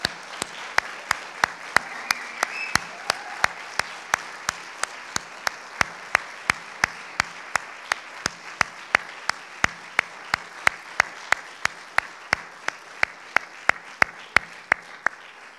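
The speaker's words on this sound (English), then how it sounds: "we have yet to just take a moment and together applaud and congratulate you" Guests at an Eagle Scout ceremony break into applause: a soft, sustained bed of clapping with sharp, evenly spaced clicks running through it, moderately distant and without speech.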